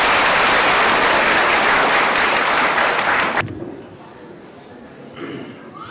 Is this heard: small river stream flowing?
no